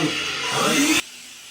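A vacuum cleaner cleans out a bathtub before refinishing, a loud, steady whooshing roar close by that cuts off abruptly after about a second, with no talking.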